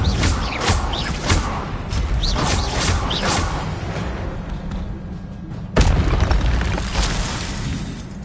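Incendio fire spell blasts from Hogwarts Legacy, a steady roaring whoosh with repeated bursts, then a sharper loud boom near the end over continuous game ambience.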